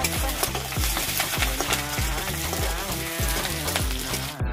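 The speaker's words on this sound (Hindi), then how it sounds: "तेल गर्म हो चुका है अभी डालेगी ना रे, ये प्याज खाली डाल रही है" Onion sizzles loudly in hot oil in a village kitchen for rugda puttu, with repeated scraping stirs every half second over a constant crackling fry, no talk.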